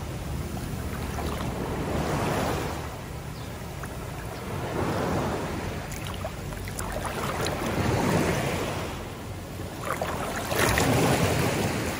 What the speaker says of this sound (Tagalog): Lumakas yung alon.